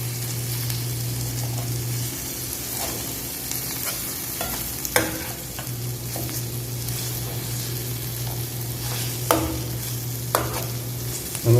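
Chopped dates sautéed in a pan, a steady close sizzle with scraping stir strokes and occasional sharp clicks of the spoon against the pan, no voices.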